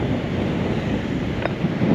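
Choppy Columbia River water near where it opens toward the ocean, a steady broadband wash of waves mixed with wind buffeting the microphone, continuous and fairly loud with no voices.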